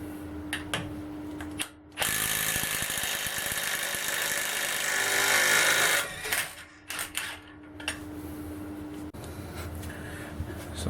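Impact-style power tool or wrench working a multi-point driveshaft bolt on a Golf R32 Mk5 VR6, a loud sustained rattling burst of several seconds with short clicks and handling noise before and after.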